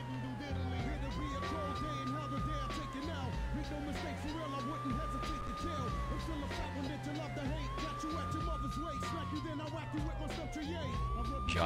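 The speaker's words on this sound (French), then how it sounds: "Oh putain, mais tu mets la sirène" Police siren wailing in True Crime: New York City, a repeating rising-and-falling tone cycling steadily over a busy game soundscape of traffic and engine rumble, with talk underneath.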